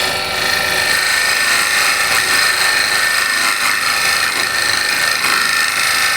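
A hand scraper shear-scraping a wood surface makes a continuous, close, even rasping hiss with soft strokes running through it and no voices.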